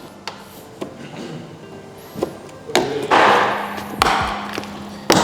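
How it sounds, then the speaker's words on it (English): Plastic bumper clips are pried off a 2023 BMW M3 G81 Touring bumper with a run of sharp, close snaps, knocks and thuds spaced irregularly, plus a brief rustling scrape. "plastic clips always sound like you're breaking it"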